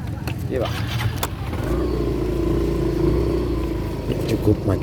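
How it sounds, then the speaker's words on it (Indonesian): Traffic jammed on a road leading to a grave site, with car and motorcycle engines idling and revving nearby while people talk over the rumble. "Cukup macet sekali memang"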